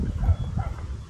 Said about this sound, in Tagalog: Ito may aso rin oh.